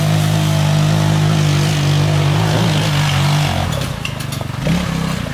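A go-kart engine drones steadily at close range on a wooded uphill trail, then its pitch drops and wavers as the kart pulls away, with a brief rev near the end.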